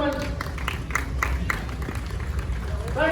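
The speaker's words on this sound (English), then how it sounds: "Give her a round of applause." Crowd applause and clapping at an antique farm machinery parade during a 4-H county fair, a steady outdoor patter of many hands mixed with background chatter and voices, continuing throughout.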